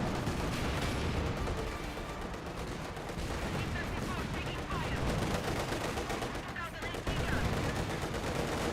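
In a Company of Heroes 2 match, a light artillery barrage lands amid sustained gunfire, a dense continuous rattle of shots and thuds that keeps up for several seconds, with a voice talking over the battle.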